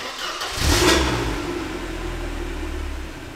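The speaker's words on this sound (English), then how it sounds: "The engine sounds sweet. But I'm only hearing exhaust." A BMW car engine cranks and fires, revs up once, then settles into a steady low idle, close and loud.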